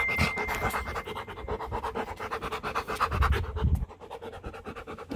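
A Rottweiler panting rapidly after playing ball, with quick rhythmic breaths close up and some scratching, then a brief quieter stretch before the panting resumes.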